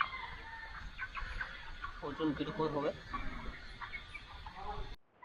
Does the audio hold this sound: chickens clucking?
yes